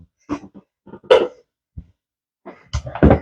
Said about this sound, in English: Y'all can hear him coughing.